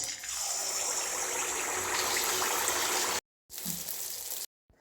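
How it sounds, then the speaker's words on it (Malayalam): Appam batter poured into hot Ruchi Gold oil in a pan on a stove, a loud steady rushing sizzle filling the clip, broken by two short cuts to silence near the end. "എണ്ണ ചൂടായതിന് ശേഷം അതിലേക്ക് മാവ് ഒഴിക്കുക."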